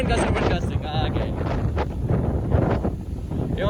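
Strong wind gusts from Hurricane Milton at 50-58 mph batter the microphone in a steady roaring rumble, loud and continuous, with a faint voice partly buried underneath.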